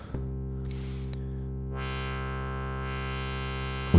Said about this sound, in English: this is a distortion overdrive effect